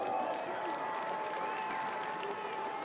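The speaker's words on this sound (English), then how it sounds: "how about a round of applause for these gentlemen inside the ring tonight?" A crowd at a fight event applauds fighters in the ring after a bout, a faint, steady wash of distant clapping with a faint tonal hum running underneath.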